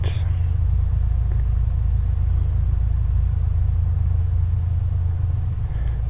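Piper Comanche 250 single piston aircraft engine at 2,000 RPM, rendered in the A2A flight simulator, a steady loud low drone holding constant throughout with no variation in pitch.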